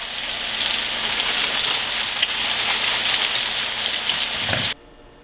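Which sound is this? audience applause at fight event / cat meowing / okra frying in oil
okra frying in oil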